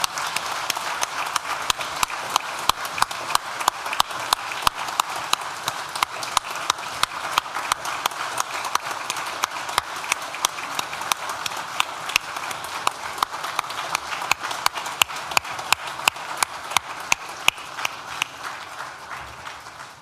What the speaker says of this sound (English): join me in a round of applause to thank all those people who have helped you along the way